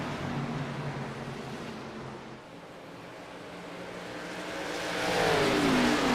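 NASCAR Xfinity race cars in the iRacing simulator, engines droning steadily as they run side by side down the backstretch, swelling louder and higher as cars pass close near the end.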